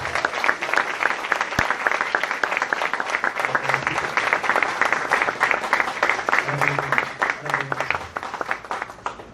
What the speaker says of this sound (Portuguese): Vamos aplaudir a Jesus pelas vidas que estão vindo.